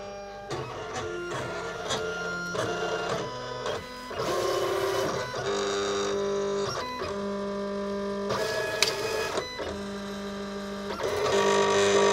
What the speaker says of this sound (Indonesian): adalah proses membaca sensor mesinnya kemudian men setting jarum